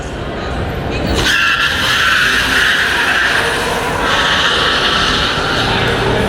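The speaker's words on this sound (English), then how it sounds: "Listen to that tire squeal." Car tires squeal indoors at the New York International Auto Show in the Javits Center, a loud, sustained screech rising over a dense, echoing crowd din.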